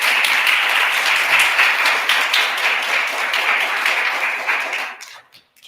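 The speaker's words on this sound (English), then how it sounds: "Let's give them a big round of applause." Applause from an inauguration-day audience for state officials swells as a dense, even patter of many hands, holding steady before cutting off quickly near the end.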